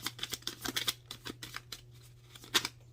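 A rapid series of crisp, papery riffles and snaps, close up, coming in quick bursts with brief pauses, like cards being shuffled.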